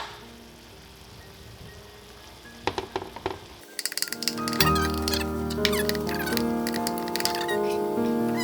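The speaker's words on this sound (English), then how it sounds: "I'm just gonna mix in small bits of rice at a time like this" Cooked rice is mixed a little at a time into a hot frying pan for omurice. A quiet start gives way to a louder, continuous sizzle with clicking spatula scrapes and stirring.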